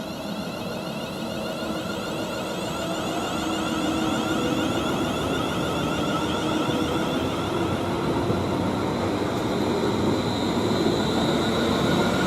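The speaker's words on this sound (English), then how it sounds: "now the passing's a 350 service from Tring to London Euston" A London Midland Class 350 service from Tring to London Euston passes at Watford Junction on the West Coast Main Line, a steady droning rumble with electric whine that builds slightly and holds, no talk.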